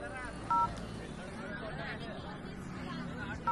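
Short telephone dialing tones beep twice, once early and once at the end, faint against a murmur of voices in a comedy scene.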